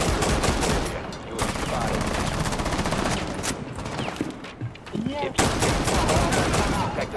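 Rapid gunfire from Rainbow Six Siege gameplay, loud bursts of automatic weapon shots cracking repeatedly throughout, with sharp louder reports near the end and a player's voice talking over the action.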